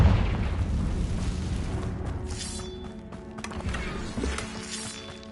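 Confringo fire spell from the video game Hogwarts Legacy bursting in a deep booming explosion, followed by crackling pops and rumbling debris that fade over several seconds, with game music tones underneath.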